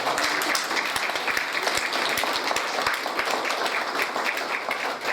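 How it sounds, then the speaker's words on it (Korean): An audience at a lecture event gives a sustained round of dense, loud applause from many hands, continuous and near, with faint voices mixed in. "박수 한번 부탁드립니다."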